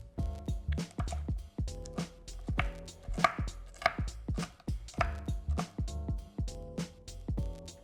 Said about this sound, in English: we're gonna start cutting up our protein into bite-sized pieces so we can add it to our sauce.